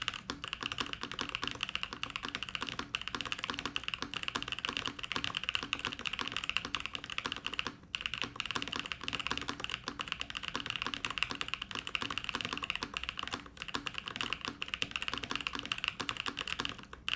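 Rapid, continuous typing on a Strata TKL mechanical keyboard with a polycarbonate plate, close up, with crisp clacking keystrokes in an even rhythm and no talking.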